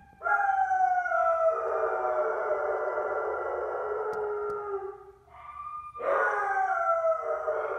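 Several dogs howl and yelp together in a long, wavering chorus, loud and close, then break off briefly before a second burst of howling starts up.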